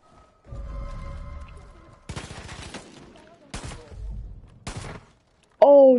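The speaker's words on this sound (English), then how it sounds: "Let's use this shotgun." A shotgun fires in the Far Cry 5 game: a rapid cluster of loud, sharp blasts, then two more single booms spaced apart, with a low rumble and brief talk between the shots.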